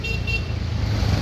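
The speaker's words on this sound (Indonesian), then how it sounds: "Ada kemacetan." Dense road traffic in a jam in Antang, Makassar, a loud steady engine rumble with a brief car horn toot early on, heard from a motorbike.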